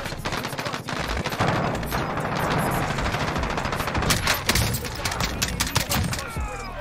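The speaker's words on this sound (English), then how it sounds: "Are you getting shot?" Rapid automatic gunfire from the Warzone video game rattles almost nonstop, dense loud bursts of shots with sharper single cracks near the end, with faint voices mixed in.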